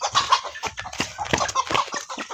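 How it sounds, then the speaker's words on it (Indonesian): A chicken wandering through a small home garden clucks in short, repeated bursts close by, loud and clear with no talk over it. "Lalu di sini kok ada ayam? Ayam siapa ini?"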